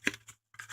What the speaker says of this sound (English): I have these nice long scissors that are flat on the bottom so I can get a fairly straight cut.